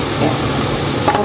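Onion and garlic sizzle and fry in a pan on an electric stove, a steady close crackle with light stirring scrapes, alone without voices.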